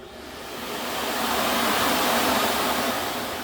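Steady broadband hiss of steam pouring from a 12 kW sauna steam cannon in a banya with the steam valve fully open, loud and close, swelling slightly and holding constant without voices.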